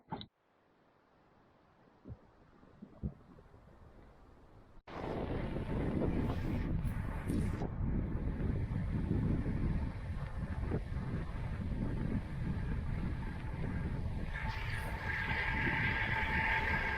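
Strong crosswind roars across the microphone on a cycling road in Mallorca on a windy February day, starting after a quiet stretch and then buffeting loudly and continuously.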